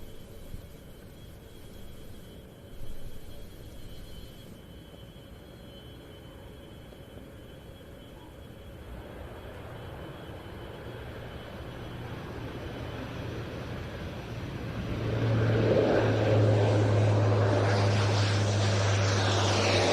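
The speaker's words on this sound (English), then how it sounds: "A C-27 Spartan as we rejoin the live action here at RAF Fairford." C-27 Spartan propeller aircraft arriving at RAF Fairford for the Royal International Air Tattoo: a distant drone grows steadily louder and nearer, ending in a strong, low propeller hum.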